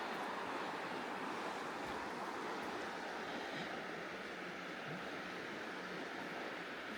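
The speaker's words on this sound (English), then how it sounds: "It's really a beautiful river." A steady, broad rush of flowing water from the Chattooga River along the Bartram Trail, continuous and fairly close, with no voices.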